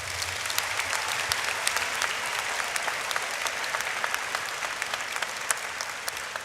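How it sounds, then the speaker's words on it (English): Sustained applause from a graduation ceremony audience honouring scholarship and bursary donors, a dense, steady wash of many hands clapping at even loudness throughout with no pause. "Please give them a huge round of applause"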